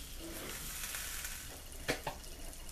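Flour being stirred into melted margarine or butter in a pan gives a quiet, steady sizzle and hiss, with two brief scraping knocks of the utensil near the end.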